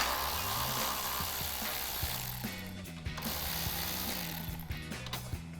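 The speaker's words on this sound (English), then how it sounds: "take out our last 10 millimeter bolt on the air box." Socket ratchet backing out a 10 mm air box bolt on a Jeep Wrangler JL 2.0L turbo, a close rapid clicking pawl in quick bursts with brief pauses, steady and without talk.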